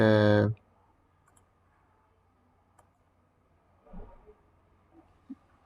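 Faint, sparse computer mouse clicks, single short ticks spaced a second or more apart in a quiet room, following a brief loud tonal burst at the start.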